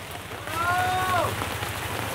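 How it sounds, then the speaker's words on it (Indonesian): Rain begins falling over a traditional village market in Rahuning, Indonesia, a steady soft patter with a faint background hum and a brief whistling tone partway through. "ini suasananya udah mulai hujan"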